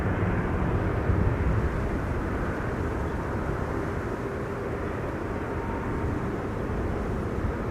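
A Delta airliner roars steadily on approach to runway 27 at Amsterdam Schiphol, a loud, continuous broadband engine rumble that holds evenly throughout with no voices.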